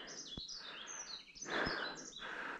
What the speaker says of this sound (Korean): 새소리 이제 영롱하죠.